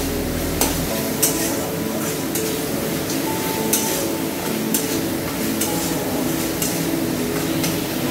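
Ginger frying in oil in a pan, stirred steadily, giving a continuous sizzle with repeated scraping clicks of the spoon at close range.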